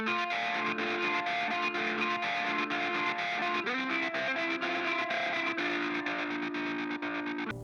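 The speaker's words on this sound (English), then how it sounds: "just a very simple little arpeggio line that just sits nicely and helped add, kind of round out, give a little bit of body" A simple synth arpeggio line, a steady cycling run of bright sustained notes with a heavily effected, slightly distorted tone, playing alone without voices.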